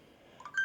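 A mobile phone gives a short electronic beep, a few quick rising tones ending in a brighter sustained note, faint and very brief.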